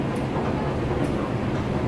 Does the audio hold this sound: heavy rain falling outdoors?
no